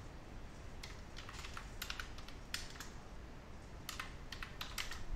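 Steady typing on a computer keyboard while entering text in MS Word, with clustered bursts of key clicks over a low background hum and no voices.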